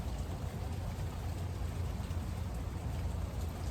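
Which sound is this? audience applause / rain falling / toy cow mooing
rain falling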